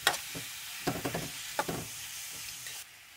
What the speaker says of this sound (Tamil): அதில் வெள்ளரிக்காய் சேர்த்து நல்லா மிக்ஸ் பண்ணி விடணும்